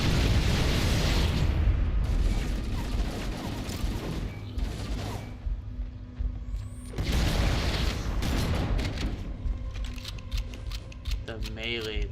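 Grenades burst in Halo CE on the Library level on Legendary with 9 skulls: repeated loud, close explosions in clusters with mechanical clatter between them and chatter over the mix.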